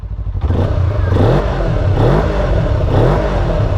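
An RKS A250 motorcycle engine revs up and down in repeated throttle blips, loud and close, with a clattering idle between pulls.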